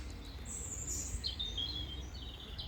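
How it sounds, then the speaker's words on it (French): Many birds sing outdoors at a hillside van camping spot, bright chirps and trilling calls repeating over a quiet low background hum, moderately distant and fairly faint, with no talking. "Je sais pas si vous entendez, mais il y a énormément d'oiseaux."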